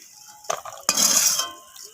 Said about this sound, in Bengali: আমি তুলে নিচ্ছি বড়িটাকে।